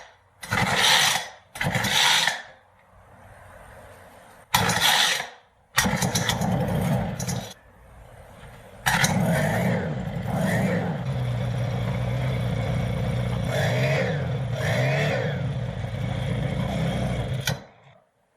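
Ryobi S430 4-cycle lawn trimmer engine pulled over in several short cranking bursts, then catching and running steadily at close range for about ten seconds before cutting off.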